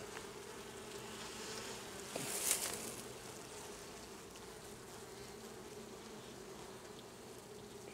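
Honeybees hum in a steady, low drone throughout an open beehive inspection, close and continuous, with a brief rustle of handling partway through.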